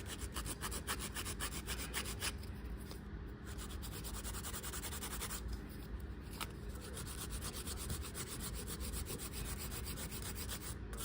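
An 80 grit hand file shaping acrylic nails gives a steady, rapid rasping scrape, repeated strokes close to the mic and fairly quiet throughout, with no talking.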